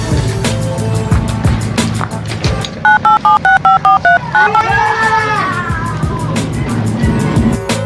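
A rapid series of telephone keypad tones beeps out clearly in quick succession, followed by a wavering tone, over steady background noise.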